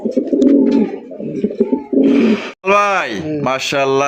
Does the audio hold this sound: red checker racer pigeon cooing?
yes